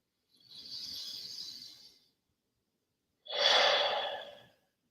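Two slow, deep breaths during EFT tapping, a long airy inhale followed after a pause by a stronger, fuller exhale, close and alone.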